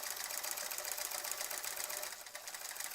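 A sewing machine stitches steadily while quilting a Splendid Sampler 2 quilt, a dense continuous mechanical whir held close and even for the whole stretch, with no talking.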